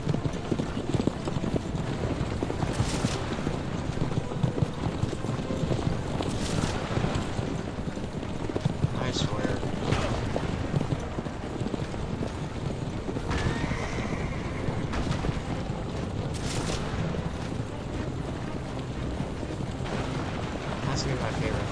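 Horse and buggy hooves clip-clop steadily through a busy Assassin's Creed game scene, the even rhythmic hoofbeats mixed with dense ambient game noise, a few neighs and occasional sharp bursts across the stretch.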